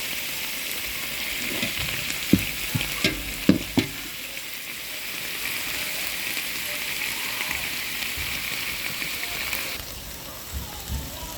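Mushrooms cooking in a pot give a steady bubbling hiss, with a few sharp knocks and clatters near the start and a soft wash of simmering afterward.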